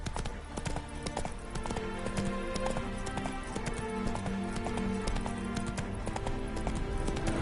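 Roach, a horse in The Witcher 3, clops along with steady rhythmic hoofbeats over a constant bed of game ambience, the clopping continuing without a break.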